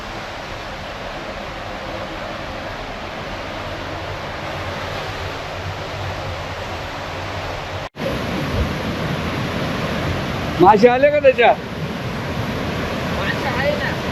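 The Someshwar waterfall near Nashik gives a steady, loud, broadband rush of falling water that continues without a break, with a brief dropout midway and people talking briefly near the end.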